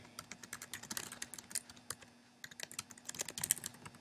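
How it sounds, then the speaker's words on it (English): Rapid, uneven clicks of typing on a computer keyboard, close and fairly quiet, with a brief pause midway before the keystrokes resume; no talk. "so now when you type"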